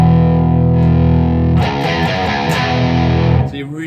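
Distorted electric guitar riff played with hard down-picking: a sustained, crunchy chord rings first, then a gritty, jarring chugging pattern starts, loud and close with no voice over it.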